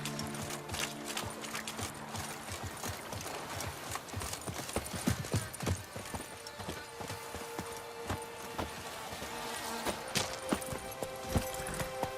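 Horse hooves clatter in a steady galloping rhythm in The Witcher 3: Blood and Wine, with faint creaks of tack alongside, heard fairly close and without talk.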